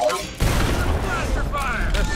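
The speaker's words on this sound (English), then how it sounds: "Blaster fire!" Blaster fire in the Star Wars: The Old Republic video game, heard as a sudden booming onset followed by rapid zapping shots and whining sweeps over a dense rumbling background.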